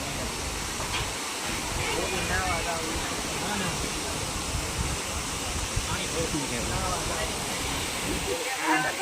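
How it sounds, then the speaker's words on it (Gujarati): Water pours down from a hill near a Khodiyar Mata shrine, making a steady, broad rushing roar that fills the whole clip while a person talks over it. "કેવો નજારો છે આ ડુંગરમાંથી પાણી આવે"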